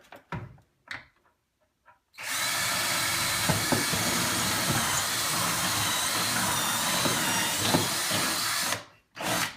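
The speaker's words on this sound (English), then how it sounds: "You can drill in from this corner." After a few brief clicks and quiet gaps, a loud power drill whines continuously for several seconds while drilling into a kitchen cabinet, then stops abruptly, with a short burst at the end.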